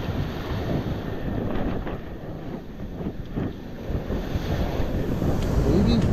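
Ocean waves break on a shore, heard as a continuous rushing surf mixed with heavy wind buffeting the microphone, rising slightly toward the end.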